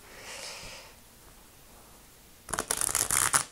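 A new deck of tarot cards is shuffled close by. After a soft rustle, a quick riffle of fluttering card slaps comes in about the last second.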